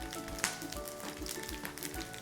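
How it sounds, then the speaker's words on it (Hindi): Asafoetida, dried red chilli and cumin sizzle and crackle in hot mustard oil up close, a brief hissing spatter with scattered sharp pops. "गर्मा गर्म तेल में गई हींग, इसी में छौंकी थोड़ी सी सूखी लाल मिर्च और फिर छौंका जीरा"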